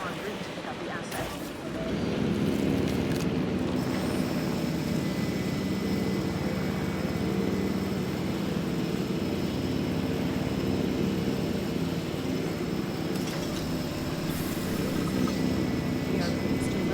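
A helicopter airlift in Jurassic World Evolution 3 drones steadily with engine and rotor noise, holding a constant, fairly loud hum for the whole stretch after a brief quieter start.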